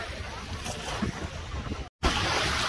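Waves and wind at La Mer beach in Jumeirah, Dubai: a steady broadband wash of surf and gusty wind noise close to the microphone, briefly cut out for a moment before resuming at similar loudness.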